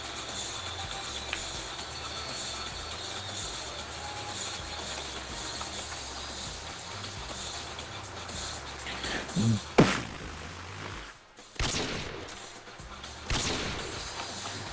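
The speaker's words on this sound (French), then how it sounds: "Vas-y, Noah, continue à tirer" Gunfire rattles through a Roblox game, a steady stream of distant, muffled shots under a constant hiss, with a few louder bursts and bangs near the end.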